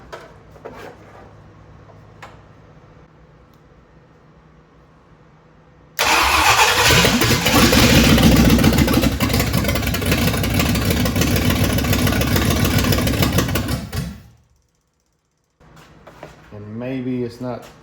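A Ford FE 390 V8 in a 1965 Thunderbird cranks and catches, then runs loudly and roughly for about eight seconds before dying, followed by a brief attempt to restart.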